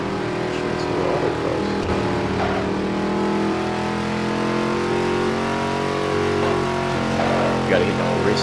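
Impala car engine in the Midnight Club video game, a sustained droning, revving whine with layered harmonics while the car slides, steady and fairly loud, with background game audio.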